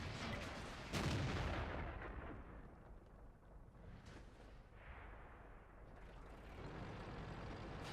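Tank cannon fire in the World of Tanks game, including a T-44 and an IS: a deep booming blast followed by a long rumbling decay and a second, softer boom, with no talk.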